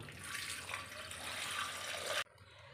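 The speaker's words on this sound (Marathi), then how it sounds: "पाणी घालून घेऊया" Water poured over two washed raw mangoes in a pot, a soft continuous splashing stream that stops abruptly near the end, leaving quiet room tone.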